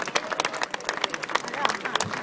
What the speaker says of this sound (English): Do give them a good round of applause.